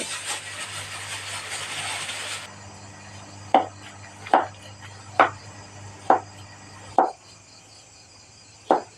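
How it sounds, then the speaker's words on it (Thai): Knife chopping through fairly firm pork on a board, six sharp evenly spaced chops after a short stretch of hiss, close and distinct. "เรามาหั่นหมูกันเลย"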